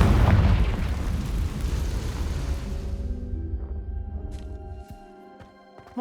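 A Confringo spell explosion in the video game Hogwarts Legacy, a loud booming blast that rumbles and fades over a few seconds, followed by faint tonal game ambience and small clicks.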